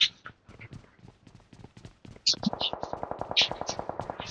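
Rapid automatic gunfire from an online shooter video game crackles in quick, evenly spaced bursts that grow denser toward the end, with voices talking over the early part.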